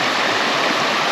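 Henrietta Creek flowing through Queensland rainforest near a campground, a steady, close, full rush of water with no voices, continuous for the whole brief stretch.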